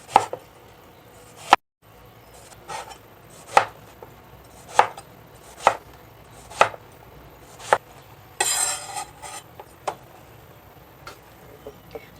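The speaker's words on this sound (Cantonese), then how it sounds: "洗乾淨咗嘅茄子呢，我哋就會用一個滾刀嘅方法啦，就將佢切開，切到一嚿嚿嘅" A knife chops washed eggplant into rough chunks on a board, sharp close thuds landing roughly once a second across a quiet room, with a brief rustle partway through and no talking.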